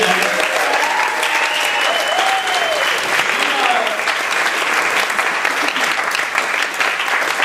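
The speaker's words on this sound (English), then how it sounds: "So, clap for Samantha, everybody" Party guests at a book release celebration clap steadily and loudly throughout, a dense wash of applause with a few faint voices mixed in.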